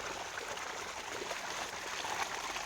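Water from field irrigation flows steadily in a farm field, a constant rushing and trickling wash close by that holds level throughout with no talk.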